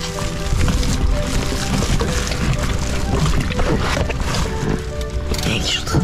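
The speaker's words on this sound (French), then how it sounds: "Putain, les vagues." Sea waves wash over a small survival raft adrift at sea in a continuous loud churning roar of water, with a voice talking over it.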